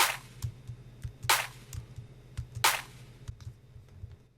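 Clap sample with full processing and effects in a mix: three crisp, bright claps spaced about 1.3 seconds apart, each with a short tail, riding over a soft repeating low beat.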